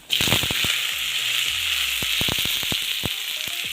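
Curry leaves hiss and sizzle loudly in hot tempering oil with mustard seeds and chilli, a dense continuous fry broken by sharp pops and crackles.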